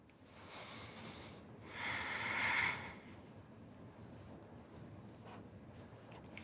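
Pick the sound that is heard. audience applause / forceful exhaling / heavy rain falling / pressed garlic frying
forceful exhaling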